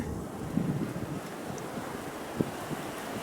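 Wind gusts steadily across a microphone outdoors beside a horizontal beehive, a constant broadband rush with a couple of brief bumps and no talking.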